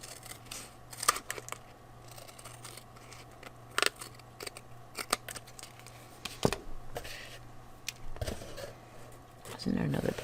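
Scissors cutting craft material for a supplies organizer, a series of short, sharp snips scattered irregularly, close and fairly quiet, with a person talking at times.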